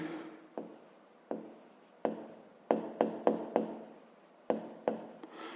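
A pen writes by hand on paper during a Grade 5 maths exercise, a series of short scratchy strokes in an irregular rhythm, about a dozen quick marks close and quiet with pauses between.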